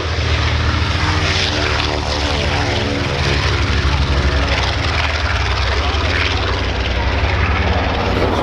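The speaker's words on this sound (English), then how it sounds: "Mitchell, one of the great iconic aircraft of World War II." A B-25 Mitchell World War II bomber at an airshow, its twin radial piston engines roaring loudly and continuously up close with a throbbing propeller beat.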